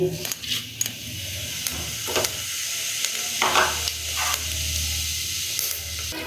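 Whole cumin seeds hit hot mustard oil in a clay pot, giving a steady close sizzle with crackling spits, a few scrapes of a utensil stirring against the pot, and a brief louder burst partway through.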